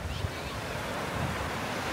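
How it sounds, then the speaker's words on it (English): Surf washing onto a white sand beach in Lombok, Indonesia, ringed by hills: a broad continuous rush of waves mixed with wind buffeting the microphone, steady and fairly loud. "Such a beautiful beach."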